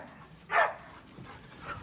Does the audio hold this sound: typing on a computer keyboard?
no